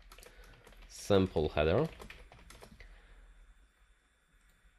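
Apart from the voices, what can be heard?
typing on a computer keyboard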